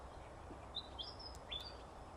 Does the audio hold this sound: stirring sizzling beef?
no